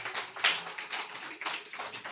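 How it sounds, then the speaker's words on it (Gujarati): Children clapping their hands in an Anganwadi preschool class, a short run of fairly quiet, uneven claps at moderate distance. "ચાલો બાળકો તાળી પાડો."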